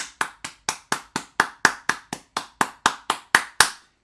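A single person claps hands in an even rhythm, about fifteen sharp, close claps over four seconds, with no voices.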